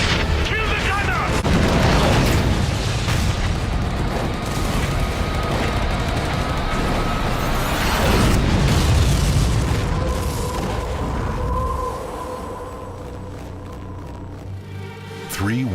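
Artillery in a World War II video game: heavy booms and explosions rumble continuously for about fifteen seconds, loud and dense, with gunfire mixed in, before a quieter tail.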